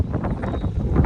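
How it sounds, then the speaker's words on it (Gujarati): Strong wind gusting across a rooftop, buffeting the microphone with low rumbling bursts, loud and close for about a second. "પવન આમથી આવે છે જોરદાર"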